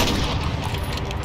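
Dense, continuous gunfire in Call of Duty Modern Warfare during a 1v1v1 match, loud rapid overlapping shots filling the whole stretch without pause.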